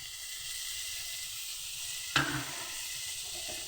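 A paste of ground mustard seed and poppy seed fries in a pan with a soft, steady sizzle, interrupted midway by a single clatter or stir that briefly flares the hiss.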